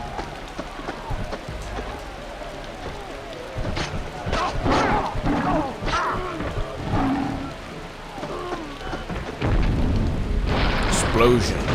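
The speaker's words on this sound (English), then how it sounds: "Explosion." An explosion in the PS2 video game Predator (2005) rumbles as a broad, noisy blast under a busy crackling game soundscape, with a louder surge near the end.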